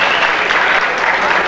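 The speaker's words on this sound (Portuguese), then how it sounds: "Vamos aplaudir aí o aluno" Classroom audience at a school event applauding a student, a brief, loud, dense burst of steady clapping with no pauses.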